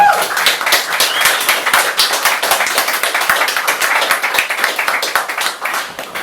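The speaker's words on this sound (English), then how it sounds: "give him another round of applause" Open-mic poetry audience applauds a poet at a table reading, a steady round of close, crisp hand claps from a small crowd lasting several seconds.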